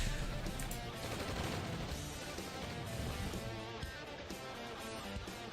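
Rapid automatic gunfire from a turret in a strategy video game, a steady dense rattle of shots layered over continuous battle noise, loud and sustained throughout.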